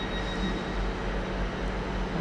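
The St James's Park train departing Exeter St David's station on a winter evening: a steady, broadband rumble and whine of a diesel unit pulling away, continuous and moderately loud with no talk.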